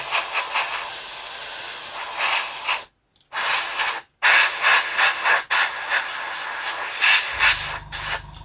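An airbrush spraying paint in bursts, a sharp airy hiss repeatedly started and stopped with short silent gaps, close and fairly loud.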